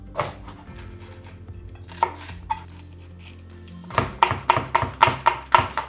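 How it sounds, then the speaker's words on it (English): A knife taps on a cutting board, a few scattered chops and then a quick, steady run of rhythmic chopping of green onion into thin strips, close and clear. "Start by chopping half a green onion into thin strips."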